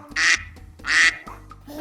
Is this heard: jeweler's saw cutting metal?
no